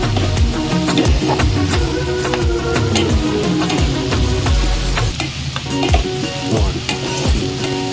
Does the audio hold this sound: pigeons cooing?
no